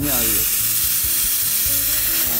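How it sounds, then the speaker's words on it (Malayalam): A pressure cooker steaming puttu made from parboiled rice flour gives off a loud, continuous hiss with steady sputtering pulses, close by and with no one talking. "നമ്മളുടെ കുക്കർ വിളിച്ചു തുടങ്ങി"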